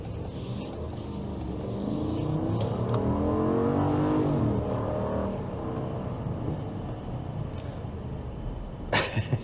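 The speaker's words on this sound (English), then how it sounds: "I'm going to accelerate it here actually. See how this vehicle accelerates." A 2022 Jeep Grand Wagoneer Series III luxury SUV with a 470-horsepower engine accelerates from inside the cabin, its engine note swelling and rising over a few seconds before easing back to a steady hum, with a couple of sharp clicks near the end.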